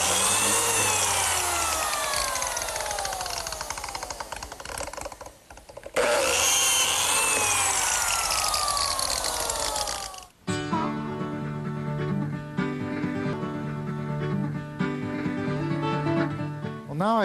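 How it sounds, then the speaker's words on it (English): A biscuit joiner plunges its small saw blade into wood to cut half-moon slots, loud whining bursts of cutting with a brief break, then steady machine noise; no speech. "I use this biscuit joiner, which is a tool specifically designed to pivot and plunge this little saw blade so that it makes a half moon for the biscuit"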